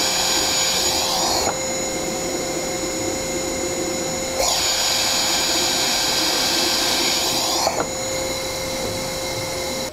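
An FLSUN S1 3D printer fitted with a 3D-printed muffler runs with a loud, steady mechanical whir and high whine, its pitch and intensity shifting abruptly every few seconds as the motion changes.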